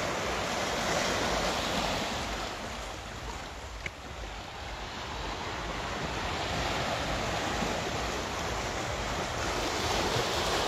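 Sea waves wash continuously onto a beach on a small island near Krabi, a broad, steady roar of surf with wind buffeting the microphone and no voices.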